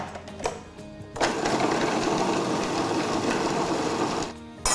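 Blender whizzing laksa paste with oil starts after a second of quiet clicks, then runs as a loud, steady motor whir for about three seconds before cutting off.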